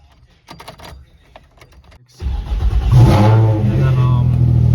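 A Nissan 350Z's door thuds and clicks, then its engine starts and revs up loudly close by, settling into a steady rumbling idle.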